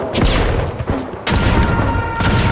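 Frag grenades thrown and bursting in the arena shooter The Finals: two loud, heavy blasts about a second apart, each a sharp crack rolling into a long rumbling tail, with constant battle noise between them.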